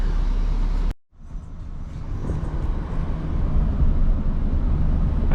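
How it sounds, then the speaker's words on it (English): A Honda Civic SI EP3 drives along, its engine and road noise a steady loud rumble inside the cabin after a brief cut to near silence, building slightly as it goes. "My first time ever driving a Honda Civic SI"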